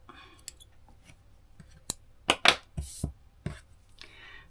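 Scissors snip through yarn while a crocheted cherry accessory is being finished, giving a few sharp, quiet clicks and cuts separated by pauses in an otherwise still room.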